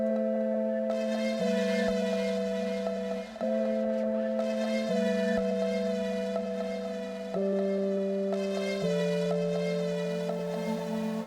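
Synth melody with a delay effect, sustained tonal notes stepping between pitches with echoing repeats trailing each phrase, steady and upfront with no voices.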